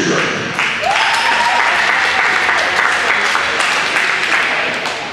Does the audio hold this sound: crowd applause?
yes